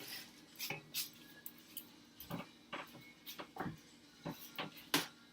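A spoon stirs thick, creamy vegetarian loaded potato soup with mock bacon, knocking against the pot in a scattered series of close, sharp clinks and scrapes, with quiet pauses between strokes.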